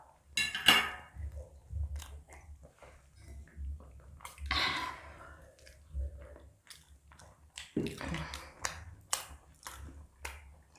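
Close, crisp bites and soft chewing of handmade rice bread, including almond and chocolate varieties, bought at a large supermarket; intermittent crunchy clicks and mouth sounds recur irregularly, with no talking.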